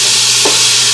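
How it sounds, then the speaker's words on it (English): Leeks sweat in hot oil in a pan, giving a loud, continuous, hissing sizzle, close and unbroken, with one brief soft bump partway through. "my oil's already hot, and I'm just going to start sweating these leeks"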